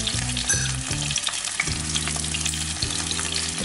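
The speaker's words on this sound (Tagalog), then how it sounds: "piniprito ko na po yung tuyo sa mainit na mantika" Dried tuyo fish fries in very hot oil, a dense close crackling sizzle with pops throughout, under a faint background hum, no one speaking.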